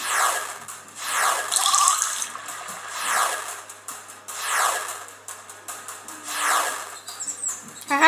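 Water sounds in the game There Is No Game come in rhythmic swelling washes, about four surges that rise and fall, moderately loud with no talking.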